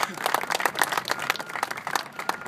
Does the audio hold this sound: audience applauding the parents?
yes